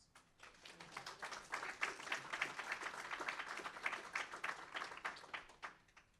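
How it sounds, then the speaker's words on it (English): An audience at a school board meeting gives a round of applause, a modest group of distinct hand claps, fairly quiet, rising and then trailing off. "Let's give them a round of applause."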